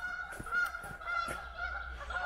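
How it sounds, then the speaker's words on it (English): Geese honk repeatedly outdoors on a walk near a packhorse bridge at the Chilworth Gunpowder Mills site, their nasal calls fairly close and steady over a low background murmur. "The geese have arrived, apparently."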